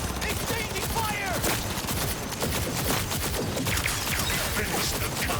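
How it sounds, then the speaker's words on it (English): Cyberpunk 2077 firefight: rapid, continuous bursts of gunfire crackle and snap throughout, dense and close, with crashing impacts mixed in. "Exchanging fire!"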